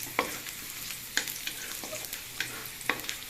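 Garlic sautés in a pan for squid adobo with a soft, steady sizzle, broken by a few sharp scrapes and stirring clicks at irregular intervals.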